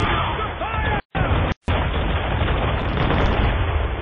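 Ship cannons fire in Assassin's Creed III, heavy booming blasts close by amid a loud, dense battle din, with shouted voices mixed in.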